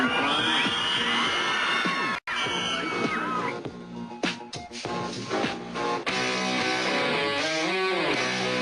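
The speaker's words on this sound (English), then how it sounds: "These fans are crazy. They're screaming and having fun." Crowd of fans at a Vancouver TV studio show screaming and cheering loudly and continuously, with shrill overlapping shrieks close by and one brief dropout partway through.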